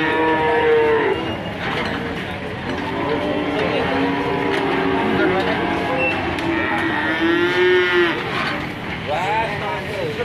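Simmental crossbred feeder cattle from Kulon Progo moo repeatedly at close range, several long resonant calls over about ten seconds, with some background murmur of people around.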